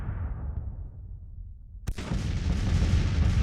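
Civil War-era artillery fire in the strategy game Grand Tactician: The Civil War: a low rumbling roll of distant cannon, then one sudden sharp cannon boom followed by continued heavy rumbling.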